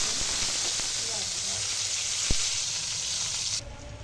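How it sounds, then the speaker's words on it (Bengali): Eggplant and eggs fry in a pan with a steady, close sizzle that runs throughout, broken by a single soft knock midway, before the hiss drops off sharply near the end. "সাথে একটু ডিম ভেজে নিলাম"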